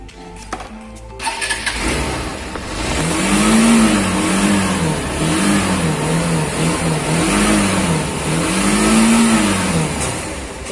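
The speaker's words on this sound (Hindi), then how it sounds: "तो अब मैं एक बार आपको इसका एग्जॉस्ट नोट एक बार सुना देता हूँ," A TVS Apache RTR 160 2V BS6 motorcycle starts up and then revs several times, its exhaust note rising and falling in repeated smooth swells over a steady idle, close and loud.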